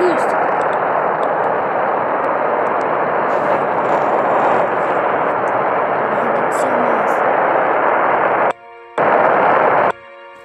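Rocket engine in the game Spaceflight Simulator boosting a satellite launch toward orbit: a loud, steady broadband roar that holds for about eight seconds, then cuts out briefly and returns in short bursts near the end.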